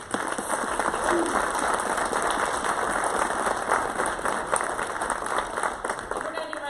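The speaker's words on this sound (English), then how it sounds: "So let's give them a big round of applause." An audience at a school board meeting gives honored students a sustained round of applause, with dense, even clapping filling the room for several seconds.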